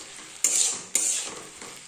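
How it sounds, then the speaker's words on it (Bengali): Potatoes frying in a pan, a steady close sizzle broken by three sharp bright scrapes of stirring, with no talking. "আর যে আলু ভাজা হচ্ছে, এগুলো হতে থাক"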